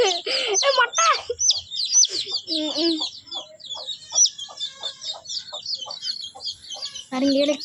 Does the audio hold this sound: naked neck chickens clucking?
yes